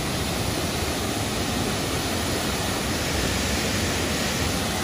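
Triberg waterfall in the Black Forest, Germany, roars as a constant, loud, broadband rush of falling water with no break, heard close and alone.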